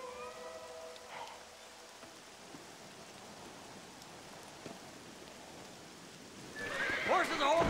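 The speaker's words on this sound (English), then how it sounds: "Horses are over here!" In the video game Red Dead Redemption, horses neigh and whinny over steady rain. One whinny comes early and faint, and a louder, close neigh rises at the end.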